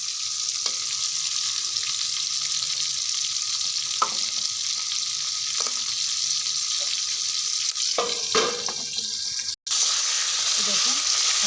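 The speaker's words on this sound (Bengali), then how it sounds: "বেশি সময় ভাজবো না, একটু সময় ভেজেই আমি নামিয়ে নেবো" Ingredients for chicken curry sizzle loudly and steadily in a frying pan, broken by a few spatula taps and scrapes and one brief dropout near the end.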